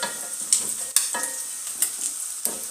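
Onions fry in a pot for Kenyan tripe stew, giving a close, crackling sizzle broken by several sharp stirring scrapes and bursts over a few seconds.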